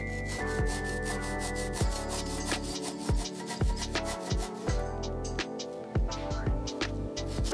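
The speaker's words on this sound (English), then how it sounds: "This rotary wheel is essential for getting into these tight welds. As you can see, it cuts right through the corrosion." A rotary abrasive wheel grinds corrosion from tight welds on a 1974 BMW R90S motorcycle, giving repeated rasping, scraping strokes in a loose rhythm over a steady tonal background hum.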